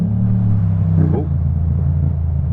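A Yamaha MT-07 with an Akrapovic titanium exhaust, its steady engine drone broken by a brief clunk of an upshift about halfway through, after which the engine note drops and carries on.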